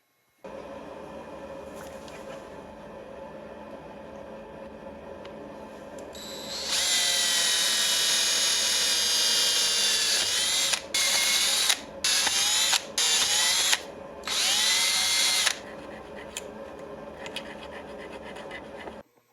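A power drill whirs in loud, sustained bursts with short pauses between them, over a steady background hum.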